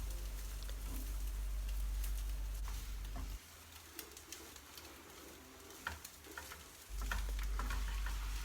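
Shredded boiled chicken breast is tossed into a pan of spice paste for lemper filling, with steady frying sizzle, a hum that drops out midway and returns, and scattered stirring clicks, no talk.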